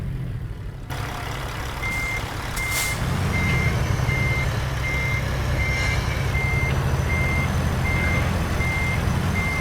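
A truck's reverse alarm in American Truck Simulator beeps in a steady, evenly spaced series while the rig backs a long trailer, riding over a constant low engine rumble with no talking.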